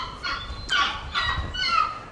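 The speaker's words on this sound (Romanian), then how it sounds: "Avem 2 lebede, pescăruși" Water birds at a wildlife rescue aviary, swans and gulls among them, give loud close honking, gobbling calls in three or four bursts over a soft background, with no talking.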